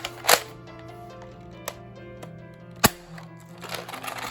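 Nerf Hyper Fuel 20 blaster with a feeding issue firing, a few sharp isolated pops and clacks spread over a few seconds against quiet mechanical rattling, heard alone.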